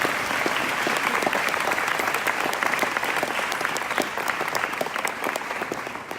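A gala crowd gives a round of applause for an Iranian-American judge, dense and steady clapping that fills the room evenly from start to finish.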